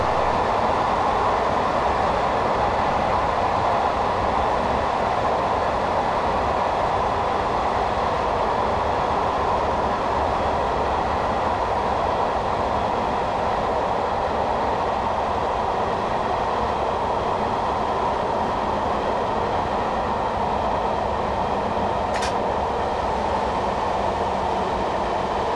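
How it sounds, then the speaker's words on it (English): Class 421 electric multiple unit slowing down on the Brighton to London Victoria line in Train Simulator 2015, a steady loud cab rumble with rolling wheel noise and no talking. "I've shut off power and I'm going to slow the train down to around 60 miles per hour."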